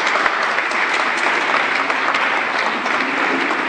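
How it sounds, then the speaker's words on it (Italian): Dense, steady applause from an audience at a nativity scene and diorama exhibition in Pozzuolo Martesana, a loud continuous wash of many hands clapping together without pause. "quindi un applauso per Stefano"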